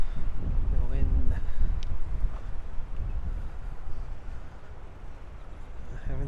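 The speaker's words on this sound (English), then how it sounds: "The wind." Wind blows hard into a microphone outdoors near the San Francisco piers and Alcatraz Island, making a loud continuous low rumble and buffeting throughout, with faint voices underneath.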